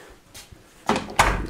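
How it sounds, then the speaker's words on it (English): A studio door swings shut with two soft, close thuds a moment apart after a quiet stretch of room tone. "close our door"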